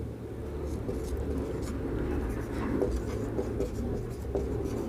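A pen writes notes in continuous soft scratching strokes, fairly quiet, with a low background hum and no voices.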